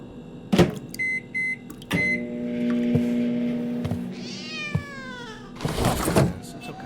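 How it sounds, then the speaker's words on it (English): Cat meows in a video game apartment, several short distinct meows over clunks, electronic beeps and a steady mechanical hum, ending in louder rumbling noise. "I have a cat?"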